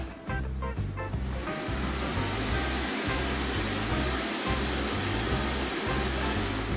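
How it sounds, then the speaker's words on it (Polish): High-speed air dryers roar at a science exhibition, blowing air to steer a ball. The sound is a loud, steady rushing hiss over a pulsing low hum, with no voices. "jedno z najgłośniejszych urządzeń na naszej wystawie, czyli słynne suszarki"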